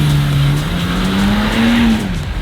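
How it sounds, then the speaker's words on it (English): BMW spinning donuts on a wet surface, engine howling loud and near with a rising, wavering pitch as tires squeal continuously for a couple of seconds. "Trying to do some donuts right now"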